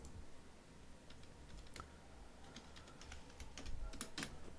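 Quick, light clicks from a computer keyboard spell out a short word, a brief run of faint taps over a quiet background hum.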